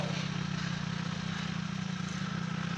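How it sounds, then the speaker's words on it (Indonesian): A motorcycle carrying riders strains up a steep village road, its engine a steady low drone with a dense rattling pulse throughout, loud and close. "Lihat nah, sudah tidak mampu motor bawa kita."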